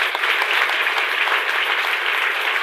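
Church congregation applauding during a worship service, a dense continuous clapping that fills the whole moment, loud and sustained with no pauses.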